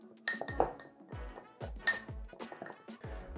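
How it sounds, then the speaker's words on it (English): A spoon clinks and scrapes against a container while ground spices including turmeric are mixed, in several bright ringing taps and rattles spaced irregularly, close and fairly quiet, no voices. "Take a spoon and give it a nice mix."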